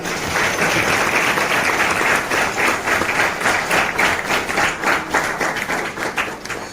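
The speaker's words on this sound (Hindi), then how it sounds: "हम सब ताली बजा के" A convention crowd at the National Federation for New State gathering in Darjeeling breaks into loud, dense applause approving a resolution, a steady wall of clapping that holds throughout with slight swells near the end.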